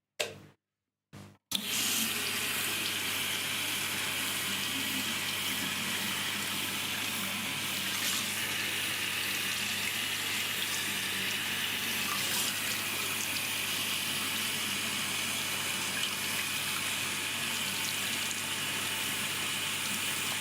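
Tap water runs steadily into a sink while hands are washed in a top-floor home, a constant close gushing rush that starts after a brief pause and continues alone without a break.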